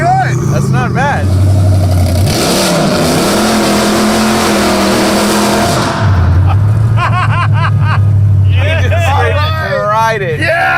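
A car engine revs hard and drones steadily while driving, close and loud, with the pitch rising and falling through gear changes and a long high sustained pull; people talk and laugh over it in the cabin.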